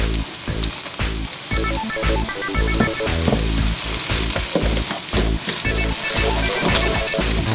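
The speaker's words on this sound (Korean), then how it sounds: "자 이제 기름이 끓기 시작합니다" Hot oil sizzles steadily in a pan as spicy chili powder goes in for a late-night ramen, a continuous loud crackle with a rhythmic, music-like backing throughout.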